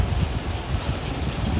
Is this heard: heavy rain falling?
yes